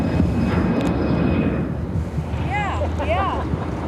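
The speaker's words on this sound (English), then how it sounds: "Taking off to Green Bay." An Air Wisconsin airliner taking off at O'Hare, a loud broad continuous jet roar with wind rumble on the microphone, while a person talks briefly over it.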